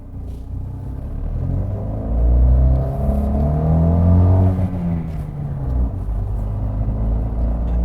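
Fiat 500 with a 0.9-litre 85 hp TwinAir two-cylinder engine droning steadily inside the cabin, a loud low rumble that swells as revs rise mid-clip and then settles, with no talking.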